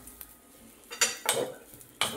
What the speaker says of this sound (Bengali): শুকনো হওয়া পর্যন্ত নাড়তে থাকবো।